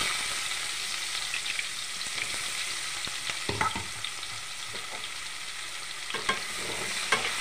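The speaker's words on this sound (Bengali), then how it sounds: "লাল লাল করে ভেজে নেব।" Chopped onions with bay leaf fry for a mutton curry, giving a soft, even sizzle broken by clattering spatula stirs in a few quick bursts, close and fairly quiet.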